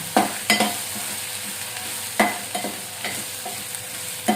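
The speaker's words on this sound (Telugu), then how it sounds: "తగినంత కారం 2 చెంచాలు వేసిన దీంతో నేను కలపాలి బాగా" Chili powder being stirred into colocasia curry frying in a pan, with soft scraping stir strokes recurring every second or so over a steady low sizzle, close up with no talking.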